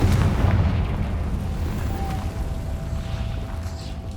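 A Confringo fire spell explodes in the video game Hogwarts Legacy, setting off a loud, deep boom that settles into a long, rumbling roar which slowly fades.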